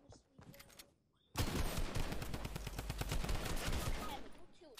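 Rapid bursts of automatic gunfire in a Fortnite match erupt after a quiet moment and keep going loud and dense, shots crowding together over several seconds before easing slightly at the end.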